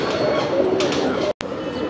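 Madrasi pigeons at a loft in Andheri West, Mumbai, give soft low coos, steady through the scene against a busy background, with a brief dropout near the end.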